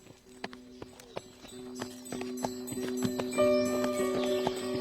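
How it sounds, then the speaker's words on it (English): Horse hooves clip-clop at a steady walking pace while being ridden in a King Arthur radio drama, the regular hoofbeats close and clear, with harness-like tones and rising background sound toward the end. "I like riding on your horse."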